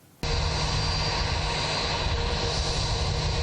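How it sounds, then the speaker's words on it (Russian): An airliner flying in from Moscow arrives in Kazan, its engines a loud, steady roar that starts abruptly and holds constant with no voices. "Этот самолет из Москвы в Казань сегодня встречают по давней европейской традиции."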